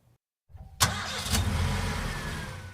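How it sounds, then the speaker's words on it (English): A car engine cranks with a sharp catch and fires up, then settles into a steady running idle, close and loud after a moment of silence. "The sound of a car starting."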